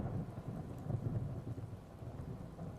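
Steady rain pours with deep rolling thunder rumbling through a night storm, the low rumble swelling and easing continuously over a dense wash of falling water, with no voices.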